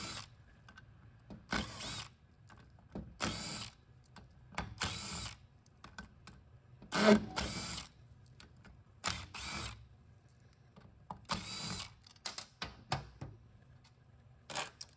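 A power tool removes bolts from the valve body plate of a Subaru Legacy 5EAT automatic transmission, with repeated short whirring bursts between brief pauses and a ratcheting click at times, close up, quiet, with no voices.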